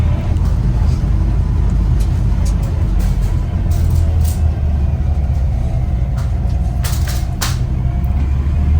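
A 1964 Chevrolet Corvair 95 Rampside pickup with a four-speed manual accelerates up through the gears on a straight track, its steady engine rumble loud and continuous throughout, with brief wind and road noise bursts.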